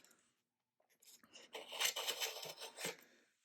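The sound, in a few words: blade trimming fiberglass on cardboard rocket body tube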